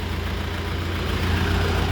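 Steady diesel rumble of a 2023 Dongfeng 404 G2 tractor fitted with an air compressor and pneumatic trailer brakes, running continuously at close range with a low, even drone and no talk.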